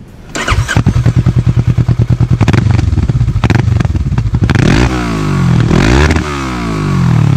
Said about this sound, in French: elle avait un pot à roue qu'on vous fera écouter, c'est bien punchy en termes de sonorité